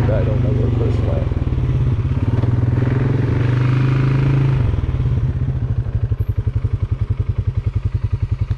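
Engine of a 570 ATV riding an off-road forest trail near Indian River, Michigan, droning loud and close throughout, first steady and then pulsing as the throttle changes, with bumps and clatter from the rough ground.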